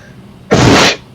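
A single loud, sharp sneeze bursts out close by, lasting about half a second against a quiet background.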